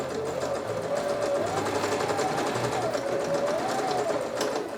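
A sewing machine stitching a seam down the back of a thrifted-remnant Halloween witch cape, a loud close steady mechanical whir with a shifting motor pitch, running continuously for several seconds.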